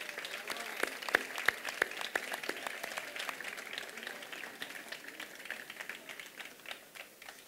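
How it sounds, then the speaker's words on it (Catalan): Light, scattered clapping from an audience at a festival queen and court proclamation ceremony in Sant Rafael del Riu, with sharp individual claps standing out over a thin, fairly quiet wash of hands. "Un fort aplaudiment."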